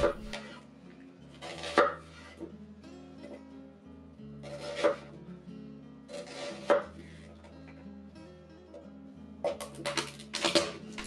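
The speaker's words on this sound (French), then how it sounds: "Coupez le demi-oignon de la même dimension que les carrés de poivron" Half an onion cut with a knife on a board, a series of close, distinct chopping knocks in uneven groups over quiet background music.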